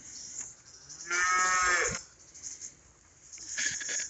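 Farm cattle moo in a long, loud call, followed by quieter shuffling and then a second shorter lowing call, fairly close by.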